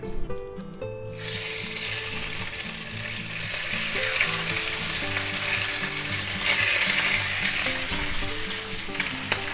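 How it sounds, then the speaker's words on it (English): Marinated pork for a sweet and sour stir fry hits a hot pan, and a loud, continuous sizzle builds almost at once over a lower tonal background. "Let's go ahead and put our marinated pork in there."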